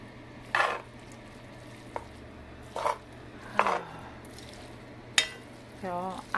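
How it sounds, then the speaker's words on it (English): Spam fried rice being stirred in a pan, a faint background sizzle broken by several separate scraping and clattering strokes of the spoon spaced a second or so apart. "Stir this in."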